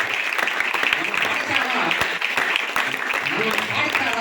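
Students at a zilla parishad high school in Old Bitragunta applaud a visiting High Court judge, with dense, steady clapping from a large crowd that fills the whole stretch at a fairly loud level.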